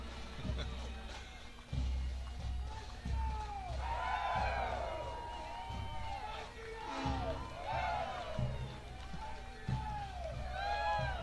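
Crowd cheering along a Labour Day parade route in Sarnia as Electricians Union Local 530 marches past, with steady, fairly loud cheers, whoops and shouts rising in waves over constant crowd noise.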